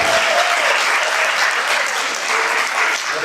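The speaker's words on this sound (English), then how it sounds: "Let's give them another round of applause." A school audience at a fourth-grade performance on a Jewish Americana theme breaks into loud, sustained applause, with dense clapping and faint cheering filling the room.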